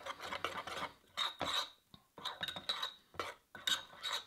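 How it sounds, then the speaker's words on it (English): A wet, sticky sourdough starter being stirred vigorously in a container, spoon scraping and squelching in quick uneven strokes with small clinks against the sides, close and fairly quiet. "I'll give this a really good mix around."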